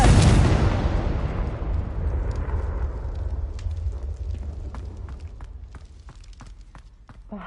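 A Confringo blasting spell goes off in the video game Magester High: The Gathering, opening with a loud, close explosion whose roar fades slowly over several seconds, with faint scattered clicks and steps behind it.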